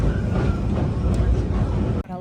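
A Tobu line train out of Asakusa station in Tokyo rumbles loudly and steadily from inside the car, then cuts off abruptly at the end.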